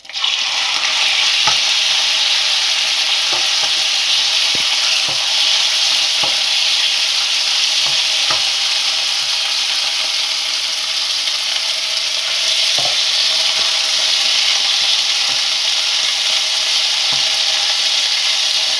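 Chicken pieces frying in oil for chicken fried rice, a steady loud sizzle with scattered scrapes and knocks of stirring throughout, no voices.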